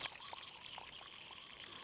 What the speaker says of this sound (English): I've got water passing through, and there's a leak going on.